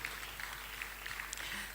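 Faint, distant audience applause at a national tourism and transport summit plenary session, a steady soft patter of many hands with no voices over it.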